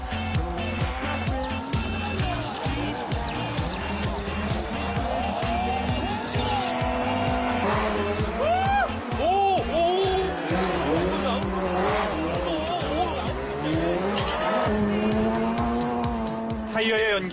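Ken Block drifts a car at a show in front of spectators: the engine revs hard and the tires squeal in long, wavering shrieks, loud and continuous throughout.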